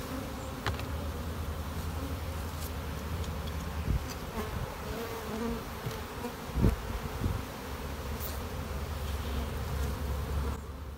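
Honeybees from Saskatchewan hives, freshly through winter and being boosted with the newspaper method, drone in a steady close buzz for the whole stretch, with occasional louder passes of single bees near the listener.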